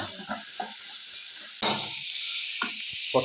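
Tomatoes with salt sautéing in a pan, a steady close sizzle broken by a few spatula stirs and scrapes, fairly quiet with no voices.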